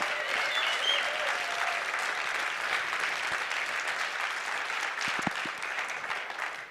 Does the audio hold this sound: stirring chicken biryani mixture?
no